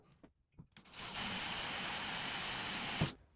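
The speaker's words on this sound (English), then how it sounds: "Now use the 1/16 inch drill bit to pre-drill the holes." A power drill with a 1/16 inch bit pre-drills holes in a Willys Jeep front seat frame, a steady high whine running about two seconds after a few short taps, close and loud.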